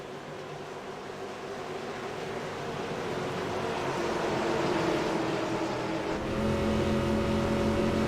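Gen 6 stock race cars roaring back to speed at Chicagoland on a green-flag restart, a dense engine rumble that swells steadily louder as the field accelerates, with no talk over it.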